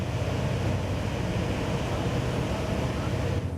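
Cranchi M 38 HT motor boat cruising at 18 knots around 2,400 rpm, a steady, loud low engine drone with rushing water and wind noise, continuous and even from start to finish with no voices.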